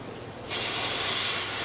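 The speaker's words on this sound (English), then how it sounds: "I'm spraying at about 5 psi, and I've got my paint really thin again" An airbrush sprays thinned brown pre-shade paint onto a Gundam HG model kit at low pressure, a sudden steady close hiss that starts after a quiet moment and holds evenly to the end.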